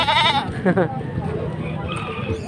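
A goat bleats twice in quick succession, close and wavering, at the start, followed by a quieter stretch of indistinct background noise and voices.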